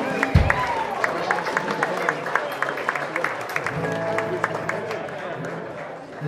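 A live music crowd claps for a band, scattered claps and light cheering rising over a room murmur with talk nearby, loose and moderately close before fading toward the end.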